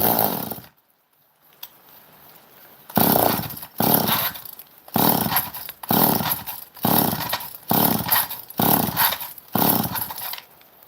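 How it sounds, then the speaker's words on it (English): A Stihl 1612 chainsaw revs loudly in a string of repeated bursts, each roughly a second long and separated by short dips, following a brief first burst and a quiet gap. "that's the Stihl saw. 1612."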